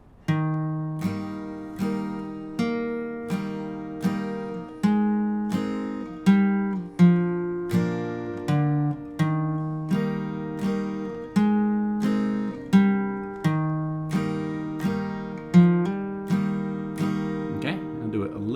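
Acoustic guitar strummed slowly with steady single down strums, playing the intro of a song, each chord ringing and decaying before the next, played alone.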